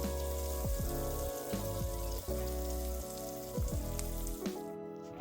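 Onions frying in a pan with leftover steak drippings, a steady close sizzle with bursts of crackle and spatter throughout.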